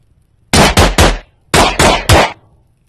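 Gunfire in a VR horror game built in Unreal Engine 5, aimed at test dummies: two loud groups of three sharp, ringing shots, each group evenly spaced, with a short pause between groups and no talking.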